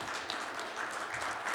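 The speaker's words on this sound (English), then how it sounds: "The in-person audience is clapping as well." An in-person audience at an anniversary celebration event applauds steadily, a dense even patter of many hands clapping throughout without pause, moderately close and with no talking over it.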